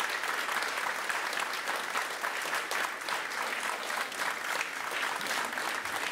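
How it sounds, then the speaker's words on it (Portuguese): Church congregation applauding steadily, a dense, even wash of many hands clapping that holds at the same level throughout without any voices breaking through. "Aplauda com mais vontade."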